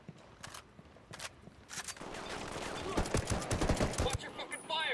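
Gunfire in Ghost Recon Wildlands: scattered single shots give way to a sustained, loud burst of automatic fire, with the shooting continuing densely toward the end.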